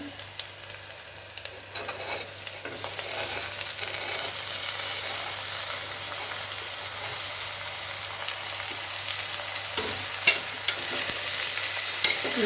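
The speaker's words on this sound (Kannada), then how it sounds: "ಚೆನ್ನಾಗಿ ಅದನ್ನು ಫ್ರೈ ಮಾಡೋಣ ಸ್ವಲ್ಪ ಹಾಗಲಕಾಯಿ ಹಾಕ್ತಾ ಇದ್ದೀನಿ ಇದಕ್ಕೆ" Bitter gourd frying in oil, a steady close sizzle with occasional scrapes and stirring clatters from a spoon against the pan; no voices.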